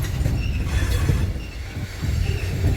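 A train, likely carrying autoracks, rolls steadily past at close range with a continuous low rumble and rail noise, while metal wheels squeal intermittently throughout.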